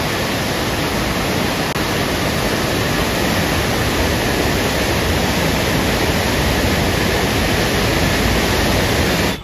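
The Ganges at Haridwar rushes fast and full with July rainwater, a loud, unbroken roar of flowing water that holds steady throughout.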